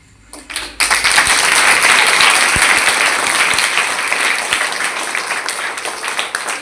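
Students applauding at a farewell gathering, a sudden full burst of clapping from a large crowd that stays loud and steady, with a faint voice before it starts.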